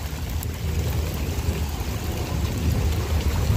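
Heavy rain pours steadily during a rainstorm in a rural village where people are out fishing, a dense, continuous broadband hiss with a faint low rumble underneath and no voices.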